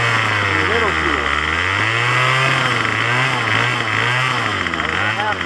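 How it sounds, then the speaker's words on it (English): A Craftsman string trimmer engine runs at half throttle during carburetor tuning, a loud, close, buzzy two-stroke whine that rises and falls unevenly while someone talks over it. "That was a half throttle."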